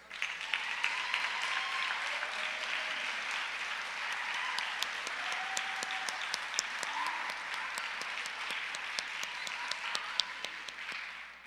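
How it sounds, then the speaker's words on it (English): Applause for 12th grade students at a Christian academy convocation, sustained clapping from a crowd in a hall, moderately distant, with faint whistles or voices over it. "A round of applause, please."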